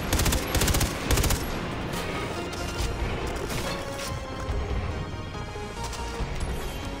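Sustained automatic gunfire from a Far Cry 3 firefight, loud, close bursts in the first seconds giving way to steady rattling fire and mechanical clatter throughout.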